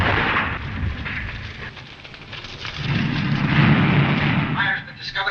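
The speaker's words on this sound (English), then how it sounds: "Fire's been discovered in the hold, sir." A fire roars in a ship's hold in a 1940 radio serial, a steady crackling rush that swells louder toward the end, with a voice speaking over it.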